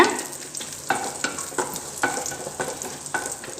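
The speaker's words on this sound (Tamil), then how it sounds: "முந்திரி நல்லா வறுபட்டு முடிகிற நிலையில் கிஸ்மிஸ் பழத்தை சேர்த்துக்கணும்" Cashews and raisins fry in ghee for bamboo rice payasam, a close steady sizzle broken by regular scraping stirs roughly every half second, with no voices.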